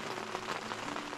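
Heavy rain pours steadily onto a surface at a wilderness fire lookout camp, a dense, constant hiss of drops with no voices over it.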